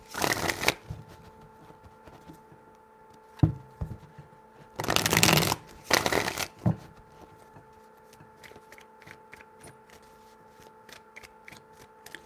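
Tarot cards are shuffled by hand in several quick riffling bursts, close and crisp, with short pauses and light handling taps between them, and no talk.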